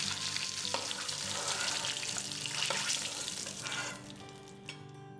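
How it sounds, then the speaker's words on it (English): Eggs slide into hot oil and sizzle steadily while being tossed around in the pan for a Bengali egg curry, a dense continuous frying hiss with occasional stirring scrapes that eases off toward the end. "slide in the eggs into the oil and toss them around a little bit just to add a little color to the eggs"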